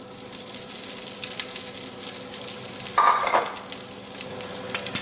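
Fried rice sizzles in oil in a pan, a steady close hiss and crackle with a brief louder burst partway through, heard alone without talk.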